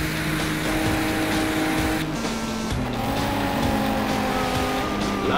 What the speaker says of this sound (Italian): L'auto 2 colpisce accidentalmente un muro.